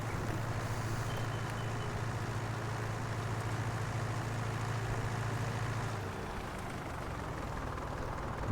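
A tractor engine in Farming Simulator 19 labours uphill towing a potato planter, a steady low drone that holds for several seconds and then eases slightly, with no voices.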